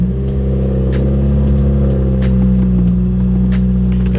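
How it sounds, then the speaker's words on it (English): A Subaru BRZ engine runs with a steady loud low drone, its pitch rising slightly as it revs mid-way, close and continuous, with no talk over it. "Start her up."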